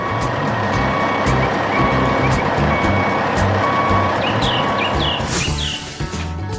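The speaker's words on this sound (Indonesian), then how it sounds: "Truk kuning itu sekarang menuju ke kolam kosong tadi. Dia membawa beban tanah untuk menutup area tersebut." A yellow truck hauling a load of soil on a farm irrigation site emits loud, regular reversing beeps over a rumbling diesel engine, with a few bird chirps near the end.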